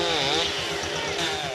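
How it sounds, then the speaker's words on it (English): A chainsaw runs close and loud at full revs as it slices wedges off a log in a farm sports contest, a steady buzzing drone with no talk over it. "it's back into the chainsaws as they slice 2 wedges off a log"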